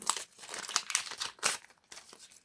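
Paper surprise packet from a collectible bunny series being opened, giving close, crisp crinkling and rustling in quick repeated bursts with brief pauses between them.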